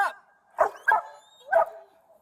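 A police dog barks during an arrest, four sharp barks in an uneven rhythm, close and loud, with brief gaps of quiet between them and a faint whine trailing off.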